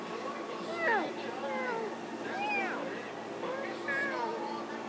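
Cat meowing in the game Minecraft, several short rising-and-falling meows spaced about a second apart over a faint steady hum, fairly close and clear.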